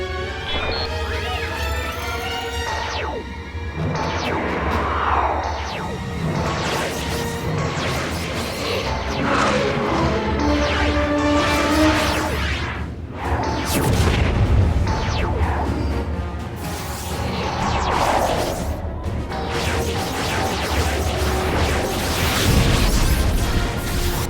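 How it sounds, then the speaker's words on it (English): Heavy sci-fi battle effects: repeated zapping blasts, crashes and whooshes layered over a dense, loud rumbling score. "Target the closest ships. Fire laser cannons."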